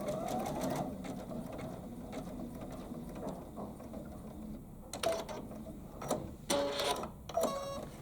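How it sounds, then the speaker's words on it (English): An embroidery sewing machine stitching steadily, with a close, fast mechanical needle rhythm and occasional louder clicks and clunks, no talking. "Start the machine, it sews it in place."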